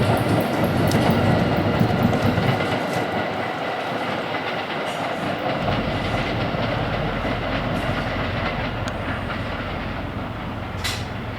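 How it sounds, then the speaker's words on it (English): A train pulls away from Wachusett station, a steady loud rumble of rolling rail cars with faint clickety-clack over the tracks, continuous and unbroken from start to finish. "There goes the train."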